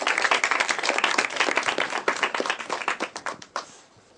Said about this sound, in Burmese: လက်ခုပ်တီးပြီးအားပေးပါ